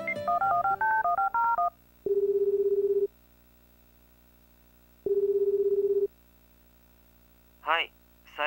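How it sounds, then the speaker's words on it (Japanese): Telephone dialing tones from the video game Tokimeki Memorial Girl's Side: a quick run of stepped keypad beeps, then two long steady ringback tones a few seconds apart, clean and electronic, ending with a short burst of a different chirp. "佐伯くんに電話しよう"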